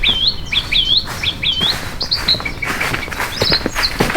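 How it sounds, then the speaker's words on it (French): Birds sing outdoors in the Vendée countryside of France. Repeated bright, close chirps and swooping whistled notes come in quick phrases over soft rustling, with no talking. "Je suis en train d'enregistrer des chants d'oiseaux."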